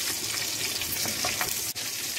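Sausages frying in a cooking pot, a continuous crackling sizzle with scattered pops, close and steady, with a brief dip near the end.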